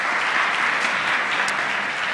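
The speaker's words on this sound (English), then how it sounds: "Give him a round of applause, too." An audience at a college night event gives a round of applause, with dense, steady clapping from many hands filling the room, loud and even throughout, with no speech over it.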